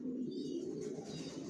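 Young racer pigeon squabs of the Johnson line, kept with their parents, give soft cooing calls. The calls are faint and steady over a low background.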